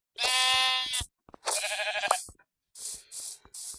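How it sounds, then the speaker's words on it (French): Sheep bleating in the Minecraft Bedrock survival game, three loud, close, wavering bleats separated by short gaps, with faint clicking and no talk. "Je vais récupérer encore ce petit mouton qui traîne."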